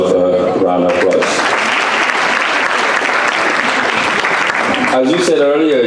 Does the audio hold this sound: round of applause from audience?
yes